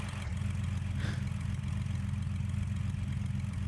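An aircraft engine idles in the X-Plane 11 flight simulator, a steady low drone holding evenly throughout with no speech.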